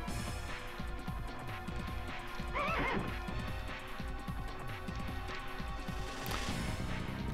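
A horse in the Legend of Dragoon video game gives a clear whinny over steady clip-clopping hooves and rumbling game sound, with no talk.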